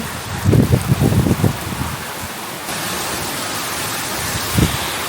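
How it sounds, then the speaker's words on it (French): Steady rain hisses on a surface at a wash house in northern Spain while gusty storm wind buffets the microphone in loud bursts near the start and again near the end. "Il y a du vent, il y a de la pluie."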